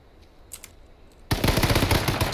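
Hip-fire gunshots ring out in a competitive arena video game. After a quiet moment with a few faint clicks, a sudden loud burst of rapid automatic fire begins and continues to the end.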